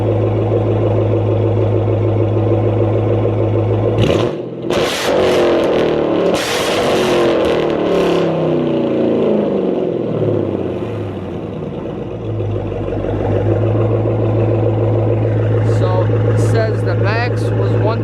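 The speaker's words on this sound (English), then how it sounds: "Let's go ahead and do some revs." A Dodge Charger R/T fitted with a Corsa Xtreme exhaust idles with a loud steady rumble, then revs up sharply in a rising burst and falls back to a deep, steady idle.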